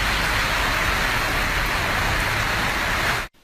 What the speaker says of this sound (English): Meanwhile, York Street saw this downpour.